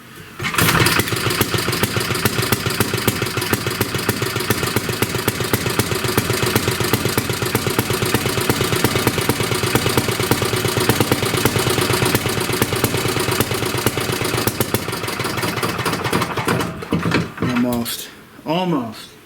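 A 1937 Briggs and Stratton Model A single-cylinder engine runs steadily and loudly up close, a rapid even putter that holds for most of the stretch before sputtering and dying away near the end.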